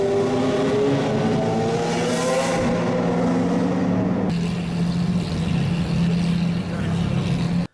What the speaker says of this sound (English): a couple of Koenigsegg's that were cruising around Monaco during the Grand Prix